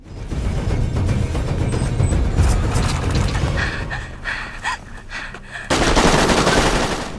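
A robotic firing squad in a science-fiction TV series fires loud, dense automatic gunfire that rolls on continuously, thins out briefly, then surges again in a sharp, close barrage with no talk.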